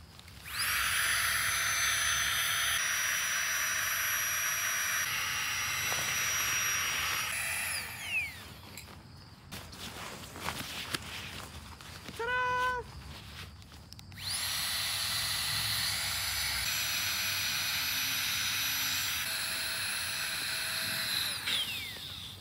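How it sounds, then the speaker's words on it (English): Flex Tail Gear Tiny Pump inflating sleeping pads, a steady high-pitched electric whine running loud and close, cutting out for a few seconds midway before resuming just as strongly. "So the Flex Tail Gear Tiny Pump worked on both sleeping pads."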